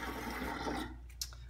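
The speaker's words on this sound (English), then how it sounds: "Nice cold water to rinse that off." Cold tap water runs steadily into a bathroom sink while a face is rinsed after a shave, then cuts off, followed by a few faint splashes and drips.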